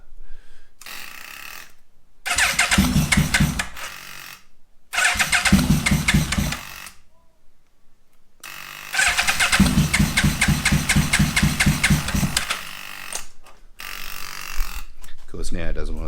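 A cold Yamaha Vmax motorcycle engine cranks and catches in several bursts separated by silent gaps, each start running briefly with a throbbing, lumpy idle before dying, then settling into a longer stretch of close, loud idling.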